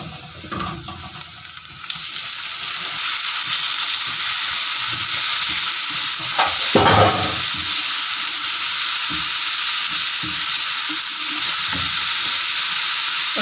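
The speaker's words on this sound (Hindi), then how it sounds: "दस से 15 सेकंड लहसुन को फ्राई करने के बाद हम इसमें टमाटर डालेंगे।" Tomatoes added to garlic and onions frying in a pan for fish curry, producing a loud, constant sizzle after a quieter start, with a few stirring knocks midway.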